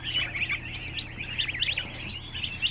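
A pet goose calls indoors with a steady run of high, thin peeping chirps that continue without a break, fairly close, over a low background hum.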